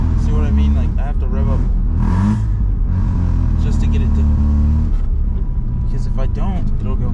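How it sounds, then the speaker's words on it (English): A Mazda RX-7 rotary engine in traffic rumbles loud and steady, with pitch rising and falling as it revs, heavy low drone throughout while someone talks over it. "I have to rev up just to get it to"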